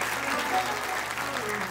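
An audience at a Hindu spiritual discourse claps in steady, continuous applause. Voices can be heard faintly over the clapping.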